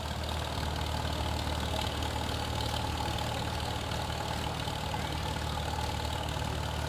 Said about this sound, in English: Next up is a 1941 Farmall H.